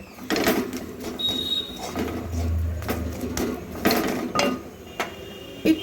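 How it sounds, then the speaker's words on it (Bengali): Papaya dough being stirred and scraped in a metal kadai, a series of irregular clinks and knocks from the utensil against the pan, close and fairly clear, with a brief low scraping rumble in the middle. "খুব ভালো করে মিশিয়ে নিচ্ছি মেশাতে মেশাতে কড়াই থেকে পুরো ডোটাই কিন্তু অটোমেটিক উঠে আসবে"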